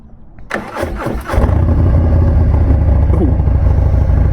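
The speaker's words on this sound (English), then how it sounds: "Everything is on this bike. Let's go ahead and fire it up here." A custom Stage III Harley-Davidson Sport Glide motorcycle cranks briefly, then catches and roars to a loud, deep idle, the throbbing exhaust close and steady.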